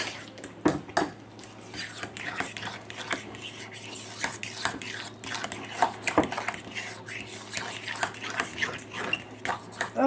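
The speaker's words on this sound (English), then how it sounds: "You stir until it's all incorporated." Homemade lasagna mixture stirred in a bowl, with steady close scraping and clinking of a utensil against the dish, plus occasional sharper knocks and quiet voices in between.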